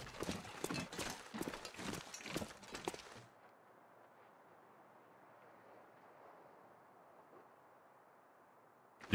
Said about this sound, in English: It sounds like big footsteps.